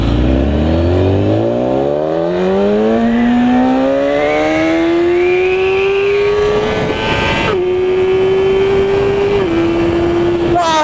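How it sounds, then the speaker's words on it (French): BMW S1000RR HP4 superbike fitted with a racing exhaust, revving hard through the gears: a loud, rising engine howl climbs steeply, then holds high with sharp shift breaks, close and dominating the scene. "La bécane, elle est munie d'un pot à cras, ce qui fait que le bruit est juste"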